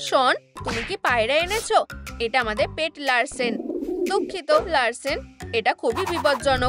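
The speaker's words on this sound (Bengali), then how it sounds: "তুমি কি পায়রা এনেছো?" A pigeon coos briefly in an animated cartoon scene, a short soft burble between stretches of lively dialogue, with people talking over most of the clip.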